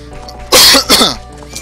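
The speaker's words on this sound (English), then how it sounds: "I just keep coughing." A single loud, harsh cough with a quick second burst, close to the microphone.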